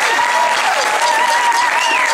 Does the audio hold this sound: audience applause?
yes